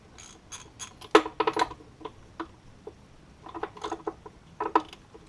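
Metal socket and tools clinking and ratcheting while spark plugs come out of a submerged two-stroke outboard motor, with scattered sharp clicks and taps in two close bursts.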